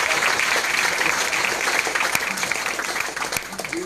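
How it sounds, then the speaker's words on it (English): A crowd applauds at a Liberian party press conference, a broad, continuous clapping roar that stays even and fairly loud, with a few louder individual claps standing out. "So please give all citizens a big round of applause."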